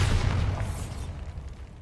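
A Bombarda explosion spell in Hogwarts Legacy erupts as a dense, loud, rumbling blast that fills the short moment and slowly decays without any pause.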